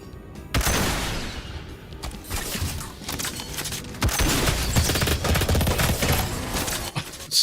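Rapid, sustained gunfire from a weapon in the Halo Doom Evolved mod for Doom, loud and dense with continuous bursts and booming impacts, with no talking over it.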